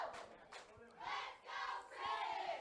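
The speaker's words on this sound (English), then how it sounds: "Now the crowd getting behind the headhunter, Chris Hayes." A crowd at a Bluff City Wrestling match cheers and yells in repeated swelling waves, loud and boisterous, with rising bursts of shouting.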